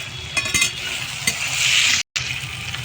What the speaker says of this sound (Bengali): এই যে কাজুগুলো রেখেছিলাম, কাজুগুলো সব কটাই দিয়ে দেবো।